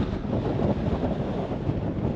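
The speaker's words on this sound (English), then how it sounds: "it's windy as all get out" Constant low rumbling buffet of wind hitting a microphone, steady and fairly loud throughout with no other sounds standing out, outdoors near the Bonneville Salt Flats.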